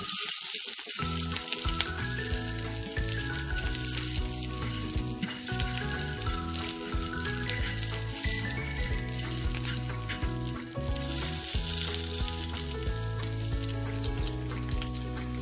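Curry paste and shrimp paste sizzle steadily as they fry in a pan, with a continuous loud crackle over low rumbling tones throughout and no talking.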